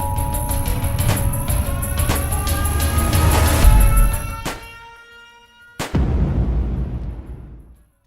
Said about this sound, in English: Wow, nice shooting, Hunter.